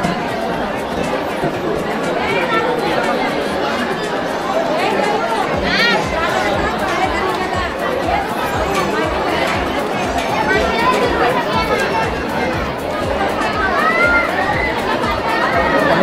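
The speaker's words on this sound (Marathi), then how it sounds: "तुम्ही पाहू शकता गर्दी किती आहे" A dense crowd waits in a queue at the Ekvira temple, with constant overlapping chatter and children's voices forming a steady, busy babble throughout.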